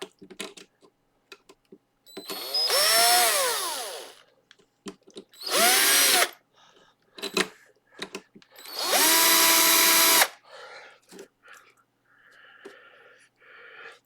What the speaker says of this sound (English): Holding the drill from being able to go in